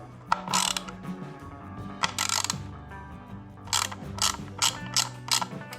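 Ratchet tightening a nut on a Honda Fury motorcycle, close and clear, with several bursts of quick metallic clicking separated by short pauses.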